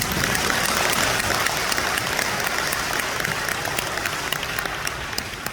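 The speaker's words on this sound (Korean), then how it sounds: "반가우신 분들은 박수 한번 치겠습니다." A large gathering at a national men's church convention claps steadily and densely, a continuous wash of applause at even loudness throughout.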